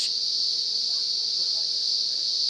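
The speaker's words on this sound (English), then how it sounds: "we're all blessed to be here in the presence of cicadas" Cicadas drone in a loud, continuous high-pitched buzz that holds steady from start to finish, close and unbroken, with faint low background sounds beneath.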